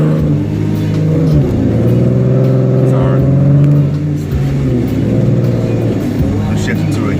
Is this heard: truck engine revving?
yes